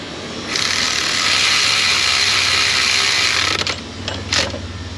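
A ratchet on a bolt of a 2009-2012 Infiniti FX35 3.5 engine, a continuous fast buzzing clicking run for about three seconds, followed by a couple of short clicks, close and loud.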